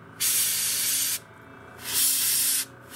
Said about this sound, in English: I'm spraying the areas that I had already sprayed before